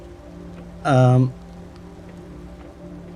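Steady rain patters indoors inside a house in the video game Planet Crafter, a soft continuous hiss running throughout while a short voiced sound briefly rises above it.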